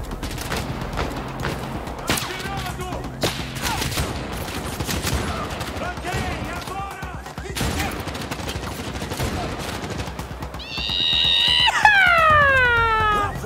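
Gunfire from the video game CrossfireX, with repeated sharp shots and bursts running throughout alongside other game effects, ending in a rising whistling sweep near the end.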